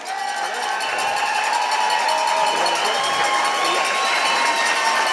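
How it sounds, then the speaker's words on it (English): Ballroom crowd at a dance competition event applauding and cheering for the departing couple, a continuous loud wash of clapping and voices held at an even level throughout. "let's give one more big round of applause for Deb and Forrest"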